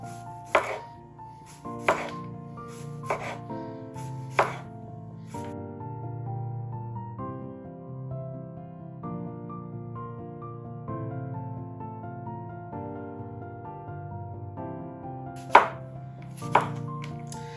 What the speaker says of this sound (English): our cucumber is all cut